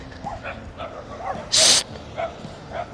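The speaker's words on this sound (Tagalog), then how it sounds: "Nakakita ng aso." A dog makes a few soft yips and whimpers amid people talking, with a brief loud burst of noise in the middle.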